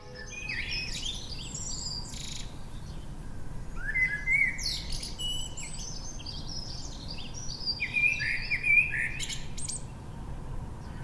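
Birdsong from a common blackbird rings out in a medieval town of narrow lanes, with several melodic phrases and chirps at moderate distance over a steady low background hum, with no voices.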